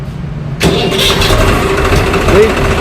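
A tractor engine driving a rotavator cranks and catches abruptly, then settles into a loud, steady idle that continues to the end.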